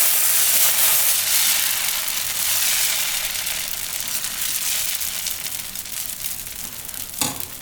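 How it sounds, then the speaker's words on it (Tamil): Sorghum dosa batter sizzles steadily on a hot griddle, a broad, close hiss that stays loud throughout and eases slightly over time, with a brief sharper crackle near the end. "கல் காஞ்சிச்சுங்க, தோசை ஊற்றிக்கலாம்."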